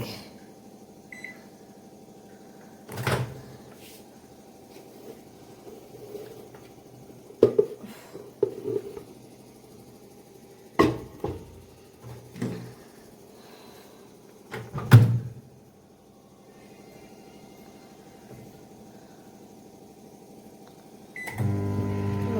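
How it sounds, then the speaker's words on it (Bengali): A microwave oven hums steadily at low volume, broken by a few sharp clunks and knocks from a door or cupboard nearby, with no talking. "দিয়ে মাইক্রোওভেন ঢুকে দিই 10 মিনিটের জন্য"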